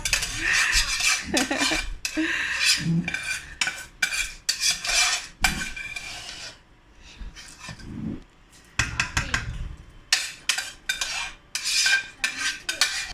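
A spoon stirs jollof rice with fish in a metal cooking pot, making a run of close, sharp scrapes and clanks in irregular bursts with short pauses between them.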